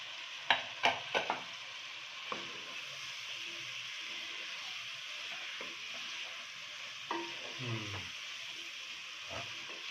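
Chicken coating fries in a pan with curry leaves, a steady close sizzle and hiss broken by a few clinks and stirring scrapes, with no talk over it.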